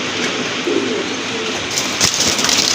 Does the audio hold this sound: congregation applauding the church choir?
no